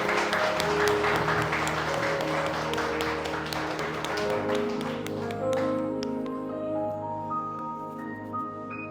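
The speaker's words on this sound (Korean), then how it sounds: "다시 한번 하나님께 영광의 박수 부탁드리겠습니다" Congregation applause at a church worship and testimony gathering, clapping over a lingering sustained keyboard or organ chord that thins out toward the end.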